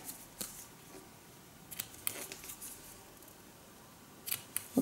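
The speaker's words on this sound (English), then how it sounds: "Just going to trim off that edge." Scissors trimming the edge of fabric, heard as a few faint, close snips and clicks scattered over a quiet background.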